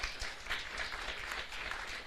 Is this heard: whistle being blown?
no